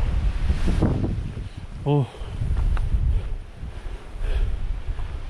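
Strong wind roars into the microphone on a mountain trail up Seoraksan toward Daecheongbong, rumbling in steady gusts, while a person gives a brief exclamation partway through.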